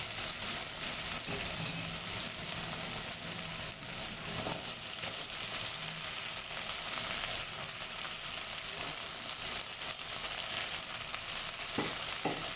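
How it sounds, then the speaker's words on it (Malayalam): Poha added to a frying tomato mixture, a continuous close sizzle with faint stirring scrapes, steady and alone without any talking. "ഇനി നമുക്ക് നമ്മുടെ അവലിടാം"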